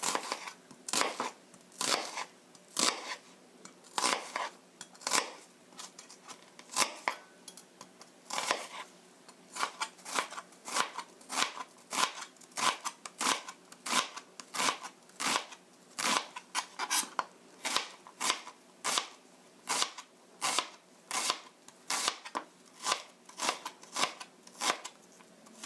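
A knife chops onion on a cutting board for a soybean-paste spaghetti sauce, with steady rapid crisp cuts repeating close up for the whole stretch, no talking.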